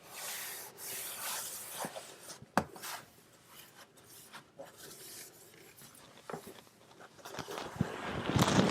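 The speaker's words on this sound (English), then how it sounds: "I'm just wiping up the floor a little around because I got my baking soda and dishwashing soap a little bit on the floor" Cloth wiping a bathroom floor around a toilet to clear spilled baking soda and dish soap, with soft, close, intermittent rubbing strokes broken by a few short knocks.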